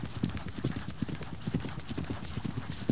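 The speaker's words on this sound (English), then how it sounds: "She's riding a horse." A ridden horse's hooves clip-clop in a quick, steady rhythm of close, loud thuds that carry on without a break, with no talking heard.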